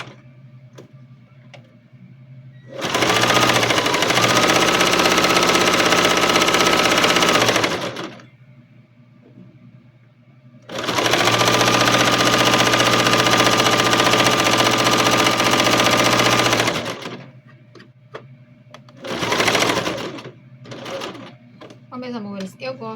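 Sewing machine running fast, stitching a safety seam on a child's backpack: two long steady whirring bursts close by, separated by pauses, with brief shorter runs and someone talking between them.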